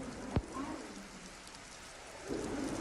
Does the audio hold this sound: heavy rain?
yes